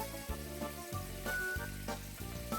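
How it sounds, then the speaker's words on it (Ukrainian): Buckwheat patties with meat and mushrooms sizzling in a hot frying pan, a steady close crackle and hiss, with low humming tones running beneath and no voices. "Тим часом перевертаємо гречаники на інший бік"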